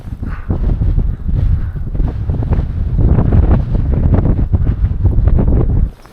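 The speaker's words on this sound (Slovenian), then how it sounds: "Veter piha." Strong wind buffets the microphone high on the north face of the Grandes Jorasses, a loud, gusting roar that swells and eases over several seconds before dropping away, with no talking.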